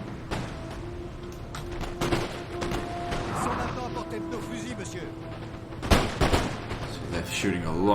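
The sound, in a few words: musket volley fire in Napoleon Total War video game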